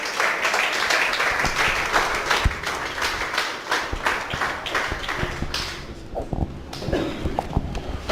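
Church congregation clapping in a continuous, uneven patter of many hands, loud and close at first, thinning into scattered individual claps near the end.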